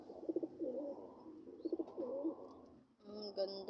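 Loft pigeons give repeated throaty coos in short rolling phrases, close and quiet, ending in a brighter burst of calls.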